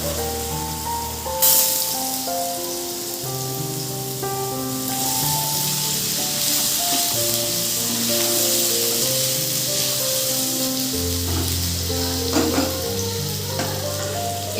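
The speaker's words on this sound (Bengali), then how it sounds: "এবার আমি তেলের মধ্যে আলুগুলো দিয়ে দেবো।" Potatoes frying in hot oil after the tempering spices, for a Bengali potato and pointed gourd curry, give a steady, loud sizzle that runs unbroken throughout with faint stirring.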